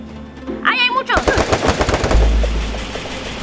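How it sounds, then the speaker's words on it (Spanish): Rapid automatic gunfire in the Free Fire battle royale game, with dense, sustained bursts of shots rattling continuously while excited voices shout over the opening moments. "¡Me dispara!"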